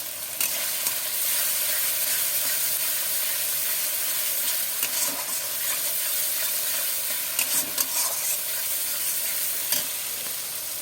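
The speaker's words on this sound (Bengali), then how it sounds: "দেখুন আমাদের মশলাটা কষানো হয়ে গিয়েছে" Spice masala with Kashmiri chili powder fries in a pan with a continuous close sizzle, broken by intermittent scraping and stirring knocks, with no voices.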